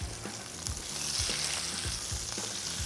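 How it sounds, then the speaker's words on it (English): Lamb burgers sizzle loudly in a hot pan, a dense continuous hiss with a few soft thuds as the patties are flipped, close and without talking. "we will go back to our burgers now because I can tell they're ready to turn. Let's give those a flip."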